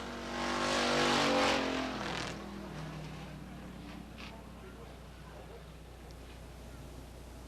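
Race cars circle under caution at Beech Ridge Motor Speedway in 1990, with a loud close pass of engines in the first seconds that fades to a distant drone, under an announcer's voice.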